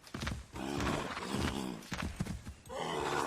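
A horse in the video game Assassin's Creed III, close and loud, with snorts, neighing and clip-clopping hooves in bursts across a few seconds.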